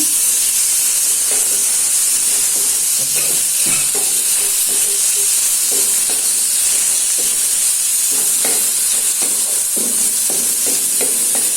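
Chicken pieces sizzle in a pan with only a little oil, a loud, constant hiss with scattered crackles and pops throughout.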